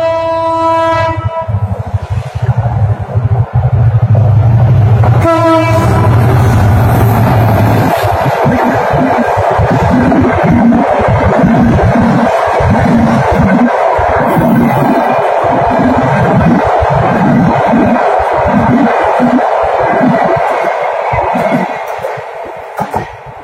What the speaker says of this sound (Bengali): দেখেন ট্রেন যাচ্ছে আমাদের বাড়ির পাশ দিয়ে, ঢাকার ট্রেন।